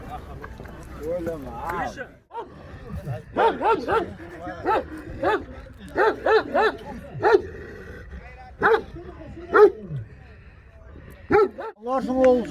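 Several dogs bark in short, sharp bursts at close range at a dog tournament, some higher-pitched yips mixed in, with a voice talking in between.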